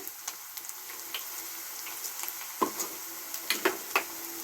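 Onions fry gently in a pan for pumpkin palya, a faint sizzle with scattered soft clicks and a few stirring taps, quiet and close.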